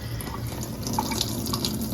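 Water runs and splashes steadily into a kitchen sink as grated zucchini is squeezed out, a close continuous trickle with small drips and no talk.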